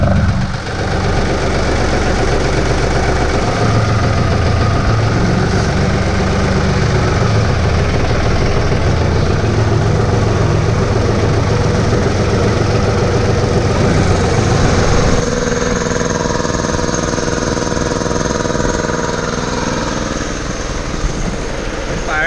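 A John Deere tractor engine running at idle close by, a loud steady rumbling drone with a slight change in tone partway through.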